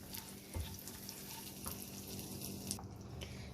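Butter being stirred into hot caramel in a pan for caramel coconut bread pudding, giving a continuous soft sizzle and fry with occasional scraping and clinks of the spoon, close and steady throughout.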